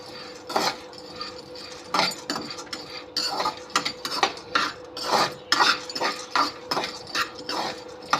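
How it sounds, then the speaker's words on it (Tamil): Lentils dry-roasting in a pan for idli podi, stirred with a metal spoon in a series of rhythmic scraping rattles and clinks, close and steady without talk. "நல்லா கிளறிட்டே இருந்தால் தான் எல்லா பொட்டுக்குள்ளேயும் நல்லா வறுபடும்."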